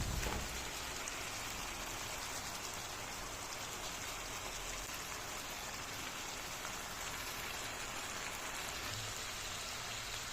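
Rohu fish pieces land in frying spices with potatoes and winter bean seeds, setting off a dense, steady sizzle that hisses evenly throughout with no talking.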